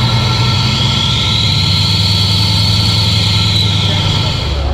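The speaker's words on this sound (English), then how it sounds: "350 horse crate engine" A 350-horsepower crate engine idles in a restored 1950 Chevy 3100 pickup fitted with fuel injection, a steady, loud low rumble with a constant drone that holds evenly throughout with no break.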